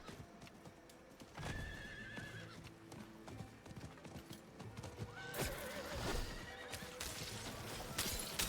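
A horse mount in Diablo 4 trots with steady clip-clop hoofbeats and lets out a loud neigh, the galloping rhythm continuing close and clear throughout.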